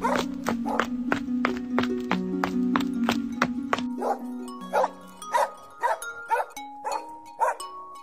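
Dogs bark in quick repeated bursts, loud and close, with sustained music playing underneath that drops away halfway through, leaving spaced barks.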